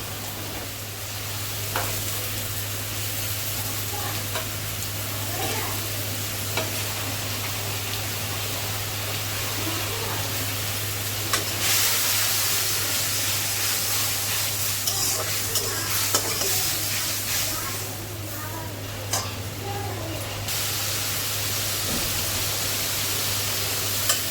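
Pointed gourd and potato curry is stir-fried in a pan on medium heat, with a steady close sizzle, repeated spatula scrapes and stirring clatters, and a low constant hum underneath; no one talks.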